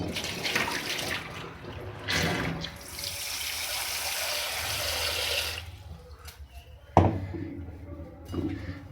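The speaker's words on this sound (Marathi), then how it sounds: "आता मी 2 पाण्याने छान मस्त धुवून घेतले" Bitter gourds are rinsed under running water, a steady close splash and tap flow broken by a few bursts, then handling knocks and a sharp clunk as it quiets.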